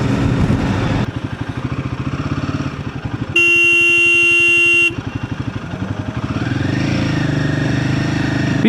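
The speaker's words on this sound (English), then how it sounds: "so I hope my aggressive honk was clear to them" A Royal Enfield Himalayan 450 motorcycle sounds one sustained, brassy horn blast of about a second and a half in the middle, heard close over the bike's running engine and road rumble.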